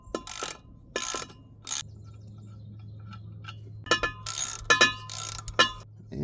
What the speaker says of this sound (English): we're going to remove the 4 11mm bolts holding our caps in